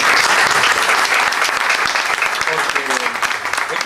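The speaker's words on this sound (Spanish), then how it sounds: "Y para ella sí que os pido un aplauso" Dense applause from an audience at a poetry reading fills the whole span, loud and close, with a voice faintly heard toward the end.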